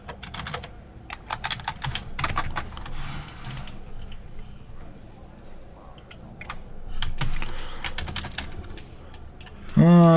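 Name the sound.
typing on a computer keyboard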